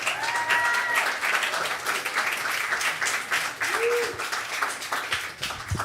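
A crowd at a live music event at Caffe Lena applauds steadily throughout, dense clapping filling the room, with a few brief whoops and cheers rising over it.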